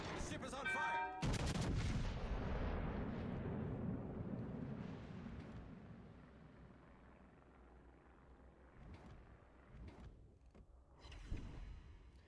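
Naval artillery in a warship video game fires high-explosive shells, with a sharp loud opening blast followed by a rumbling boom that slowly fades, then scattered lighter shots and impacts. A player talks over parts of it.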